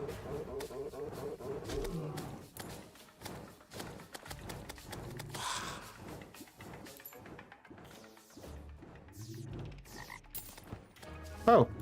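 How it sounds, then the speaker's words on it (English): A frog croaks in the video game Terraria, a run of dense, rapid croaking pulses repeating over several seconds, moderately loud amid game sounds, with voices talking at times. "Yeah, that's a regular frog."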